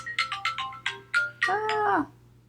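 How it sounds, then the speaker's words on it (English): A phone alarm ringtone plays a quick run of chiming electronic notes, then settles on a held, wavering tone before cutting off. Fairly quiet, with no talking. "oops, that's my alarm to do this."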